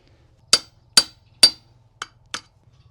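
Tool tapping a cap onto the axle of a Step2 Wagon for Two Plus kids' wagon: five sharp, bright knocks, the first three evenly spaced and louder, then two lighter ones, close up and without talk.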